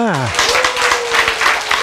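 An audience at a talk breaks into clapping, a steady dense patter of many hands that follows a brief voice at the start and continues to the end.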